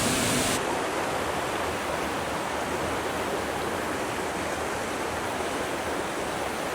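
A full waterfall in the Catlins pours as an elegant sheet into a pool, giving a constant, dense, close rushing roar with no voices.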